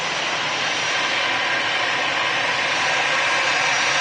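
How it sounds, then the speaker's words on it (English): EasyJet airliner touching down at Manchester Airport, a loud broad jet roar that holds steady and slightly swells, heard up close with no talk over it. "Victor Fox on the reg of this here EasyJet, just touched down here at Manchester. It's in from Milan."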